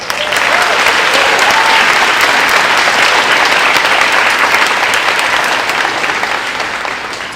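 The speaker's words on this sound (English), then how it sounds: "A big round of applause." Audience at a fourth grade moving up ceremony breaking into loud, sustained applause, a dense wash of clapping that holds steady and eases off only slightly at the end, with a few voices mixed in.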